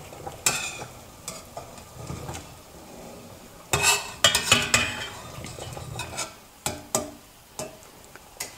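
A spoon clinks and scrapes against a bowl while a grated garlic, salt and apple vinegar mixture is stirred, in uneven bursts of close taps with quiet pauses between.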